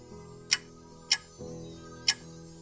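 An alarm clock ticks in a quiet room, three sharp, evenly spaced ticks standing out close and clear over a soft background hum.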